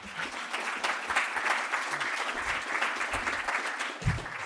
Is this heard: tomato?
no